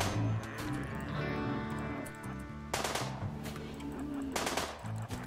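Gunfire in the RimWorld video game: dense, continuous rapid bursts of automatic shots with layered impacts, loud and sustained throughout, no talk.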